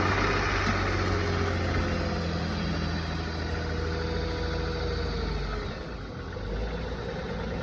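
A 2008 Nissan Quest's 3.5-liter V6 runs at a steady idle, a continuous low engine drone heard close up, with a slight dip in level near the end.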